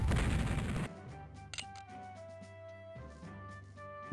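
Massed musket and cannon fire from Civil War Generals 2, a Civil War strategy game at the Battle of Port Republic: a loud dense burst at the start, then a lower, steady rumble of distant fire with a few sharp cracks.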